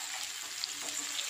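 Okra pakoda fries in a pan, a steady close hiss and sizzle of hot oil that continues evenly throughout, with no voices.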